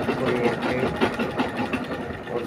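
Sewing machine running steadily as a pillowcase is sewn, a continuous close mechanical whir with a faint pulsing rhythm and no pauses.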